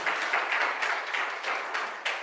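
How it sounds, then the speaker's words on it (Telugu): A congregation at a Christian prayer gathering claps hands together, a steady patter of many hands in loose rhythm for a couple of seconds. "చప్పట్లు కొట్టదావు అందరూ."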